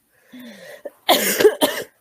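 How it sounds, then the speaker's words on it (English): Two or three harsh coughs close to the microphone, preceded by a soft throat noise, with a brief pause between the bursts. "I have a bit of cough"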